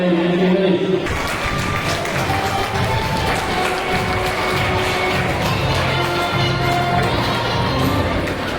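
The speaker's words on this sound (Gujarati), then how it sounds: "ફરી વખત આપણે તાળીઓથી વધારો જોરદાર તાળીઓ પાડો" Audience at a student award ceremony for a Gujarati community breaks into sustained clapping after a brief voice, the applause dense and steady, filling the hall to the end.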